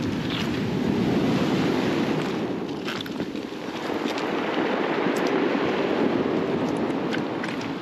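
Sea waves break and wash steadily onto the shingle and sand of Charmouth's West Beach, a continuous loud surf roar with wind buffeting the microphone and no talk.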